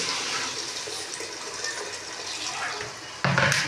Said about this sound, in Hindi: ये हमारी सब्ज़ी भून चुकी है, अब हम इसमें ऐड कर देंगे पानी